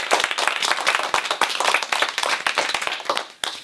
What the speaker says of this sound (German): Großen Applaus für dich.